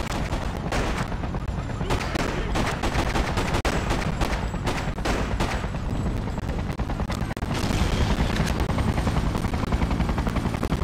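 Sustained gunfire from soldiers in the video game Freedom Fighters, loud rapid automatic bursts and repeated sharp shots layered over a constant heavy battle rumble.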